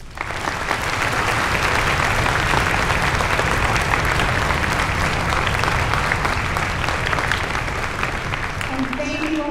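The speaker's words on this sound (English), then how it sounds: "So we'd love to give you a round of applause." Sustained, dense audience applause at a middle school Veterans Day celebration, a steady wash of many hands clapping that fills the whole stretch at an even loudness.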